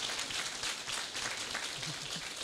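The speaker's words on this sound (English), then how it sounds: "I think a round of applause for that." A convention panel audience applauds a cosplayer's outfit, a dense, steady patter of many hands clapping from around a hall, moderately loud throughout.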